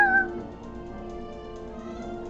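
A cat in the video game Final Fantasy XIV gives one short meow at the very start, followed by steady, sustained game music.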